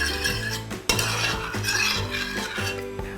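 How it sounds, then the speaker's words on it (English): A utensil stirs tomato paste into a pan for healthy sweet and sour chicken, making close scraping and clinking strokes in a steady repeating rhythm over a faint sizzle. "We're just going to mix in tomato paste."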